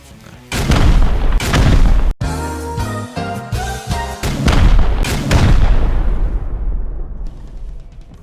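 HV rockets exploding against turrets in the video game Rust, several loud booming blasts in close succession with rumbling debris between them, a voice speaking briefly in the middle.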